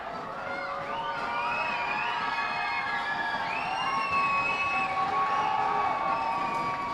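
Crowd at a minor league baseball game between the New Hampshire Fisher Cats and Reading Fightin Phils cheers and shouts steadily, a dense sustained roar with whoops rising through the stadium for several seconds.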